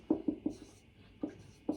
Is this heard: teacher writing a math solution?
yes